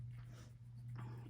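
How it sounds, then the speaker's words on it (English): Faintly, a dog gives two short, harsh coughing bursts, separated by a brief gap, over a steady low hum. "my dog is coughing."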